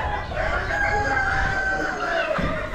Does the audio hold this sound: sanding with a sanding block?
no